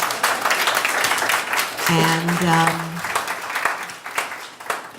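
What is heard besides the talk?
audience applause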